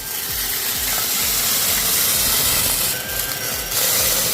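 A Black & Decker PowerSeries+ 16V cordless stick vacuum sucks up spilled coffee, giving a loud continuous whirring hiss with a rhythmic churning from the rollers and a brief rise in pitch near the end.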